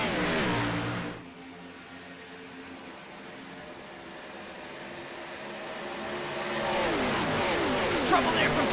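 Xfinity Series stock cars race at Daytona International Speedway in a racing video game, a steady engine drone that swells and grows louder near the end, with a commentator talking over it.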